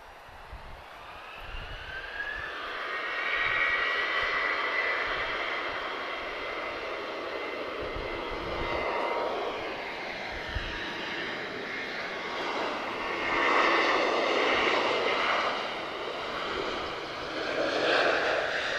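A Ryanair Boeing 737-8 jet at Lisbon Airport gives a loud, sustained engine roar with shifting whining tones that swells and holds over the whole stretch, heard from fairly close.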